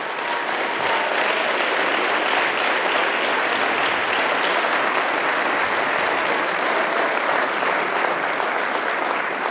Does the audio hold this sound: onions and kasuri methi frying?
no